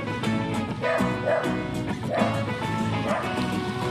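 A dog barks repeatedly near a street balut vendor in Champaca, Quezon City, with sharp yips and bow-wows in quick bursts through the clip, loud and close.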